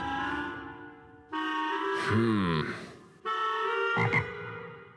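Loud, low croaking calls come in a few drawn-out bursts with short gaps, close and prominent, with no talking.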